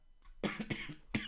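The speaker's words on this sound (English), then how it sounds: "Apologies for the cough there." A person coming down with a fever coughs several times in quick succession, harsh and close to the microphone, with a short pause before a final cough and no speech.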